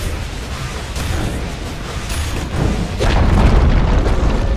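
A tower collapsing in Dota 2 gives off a deep, rumbling boom that swells and grows louder toward the end. It plays alone as a dense, sustained crash with no voices.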